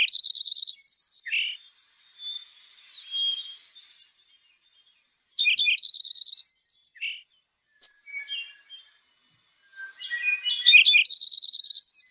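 Bright, high bird song repeats in short trilled phrases with quiet gaps between, alongside a few softer chirps, clear against a silent background.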